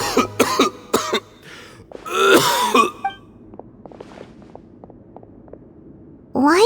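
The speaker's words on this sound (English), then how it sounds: "Why is he coughing so much?" A character in the video game Genshin Impact coughs: a quick run of sharp, close coughs, then a longer rasping fit with throat clearing, followed by faint ticking and a voice at the end.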